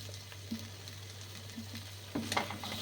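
Snake gourd and potato posto is stirred in a pan, with a low sizzle and a few scraping strokes of a spoon against the pan, fairly quiet and closely miked, with a steady hum underneath.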